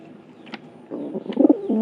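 Domestic pigeon giving a soft, low cooing call, a faint murmur at first that swells into a louder burst of throaty coos near the end, close by with no talk.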